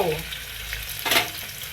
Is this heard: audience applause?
no